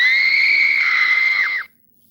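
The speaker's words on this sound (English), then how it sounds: "Sorry about that scream." A loud, sustained high-pitched scream plays as a phone notification, running steadily for over a second and a half before cutting off abruptly into silence.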